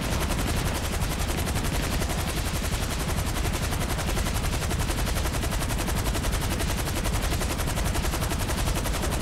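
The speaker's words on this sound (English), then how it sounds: "he's shooting at us" Gunfire in GTA Online, a relentless, even machine-gun rattle that holds steady and loud from start to finish with no pauses.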